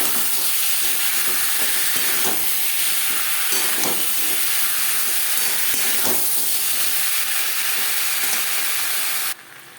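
Potatoes for a koi fish curry frying with ginger and green chilli paste, a steady loud sizzle with periodic scraping strokes of stirring every couple of seconds.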